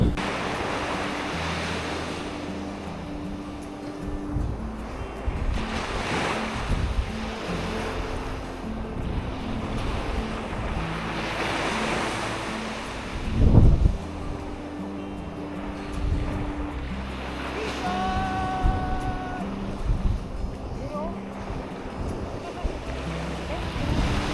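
Caribbean ocean waves wash and surge continuously with gusty wind across the microphone, one heavier crash breaking partway through.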